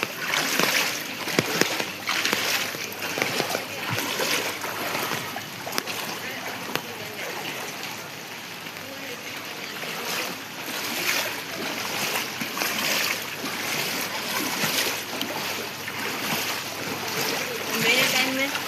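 Rainwater splashing and sloshing across a flooded street at Gol Park on a night of heavy rain, a steady broadband wash with scattered splashes throughout, under intermittent talk.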